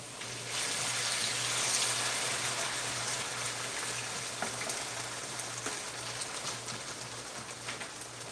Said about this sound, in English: I'm frying them first